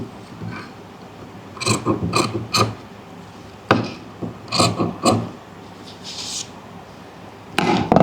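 Scissors snipping excess buckram fabric from a neckline margin: a run of short, crisp cutting clicks in small bursts, close and fairly loud, with pauses between groups.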